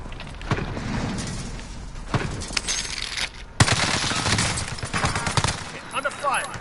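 Gunfire in Call of Duty: bursts of rapid shots and sharp reports, with a loud hit near the middle, and voices between the bursts.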